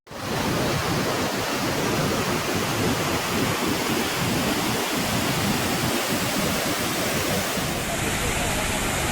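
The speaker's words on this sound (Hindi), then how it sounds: "जो बेहद खूबसूरत वाटरफॉल है" Ripple Waterfalls in Munnar, Kerala, a loud, continuous broadband roar of falling water that fills the whole scene without a break.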